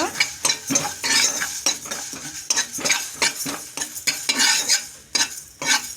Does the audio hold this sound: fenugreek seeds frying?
yes